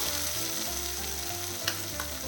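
Egg sizzles in a pan with grated coconut and chopped ridge gourd, a steady close frying hiss with a couple of faint scraping clicks from stirring, and no voices.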